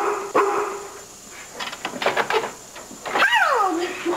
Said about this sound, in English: Now we have a dog with a complex, too.